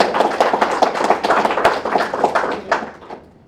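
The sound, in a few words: audience applause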